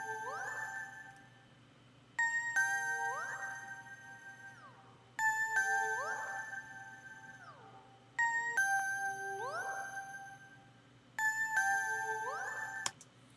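A bright bell tone repeats about every three seconds through a Microcosm pedal's Glide preset, each strike followed by pitches that glide upward in a smeared, reversed-sounding effect, quiet and isolated.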